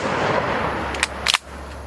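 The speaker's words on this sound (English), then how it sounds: "I hope that I can at least get these last 2 shots to ring out before it actually drops." Rifle shots from a budget alternative to the No5 Jungle Carbine ring out outdoors, two or three sharp cracks in quick succession over a low steady background hum.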